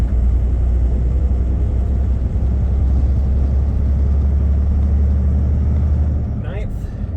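A 10-speed semitruck pulling uphill with the engine brake off, its heavy diesel drone loud and close, holding a steady low rumble before easing slightly near the end.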